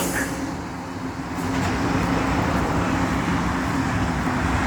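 Steady morning road traffic roars nearby, a dense wash of passing cars and heavier vehicles swelling slightly louder midway, with no voices.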